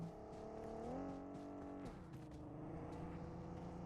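A vehicle engine in the PUBG Mobile video game approaches with a steady droning hum. The engine climbs in pitch, then drops and shifts as the gear changes midway, and it stays fairly close and loud with no talking over it.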